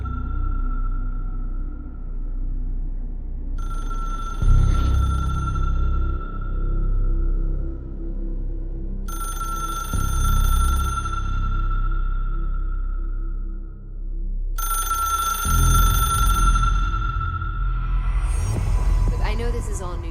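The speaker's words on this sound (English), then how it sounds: "The phone." A telephone rings in the video game Control, three or four spaced electronic ring tones over a low throbbing ambient hum, fairly loud and clear, with a final ring cut off by other sound.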